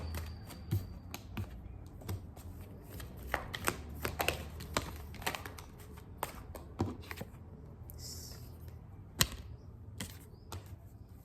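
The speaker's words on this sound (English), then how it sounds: "Let's get one more card from the tarot." Tarot cards are shuffled by hand in a quiet room, making a run of soft riffling and slapping card sounds with irregular sharper snaps, close to the listener. No one speaks.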